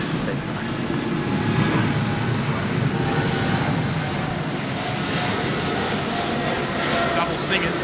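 A jet airliner takes off at Sydney Airport in heavy rain, a broad, continuous roar at moderate distance that holds steady, with faint talk underneath.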